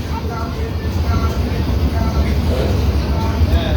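Inside a moving Eastern Railway AC EMU commuter train in Kolkata's Sealdah division, with a steady low rumble and rolling noise throughout and murmured voices under it.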